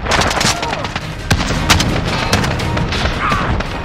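Dense video game gunfire fills the scene in near continuous loud bursts and pops, with rapid automatic fire and booming shots overlapping, while voices call out underneath.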